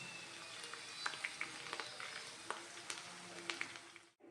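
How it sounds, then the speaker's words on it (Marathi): Okra frying in hot oil in a kadhai, a faint steady sizzle with scattered small pops and light stirring clicks that cut off abruptly near the end. "कुरकुरीत होईपर्यंत आपण फ्राय करायची आहे."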